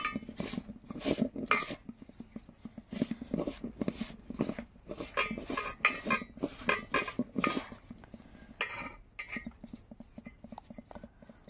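Flour and semolina being stirred together in a bowl for malpua batter, giving a loose, uneven run of scraping and clinking strokes from a spoon against the bowl, close and fairly quiet with no talking.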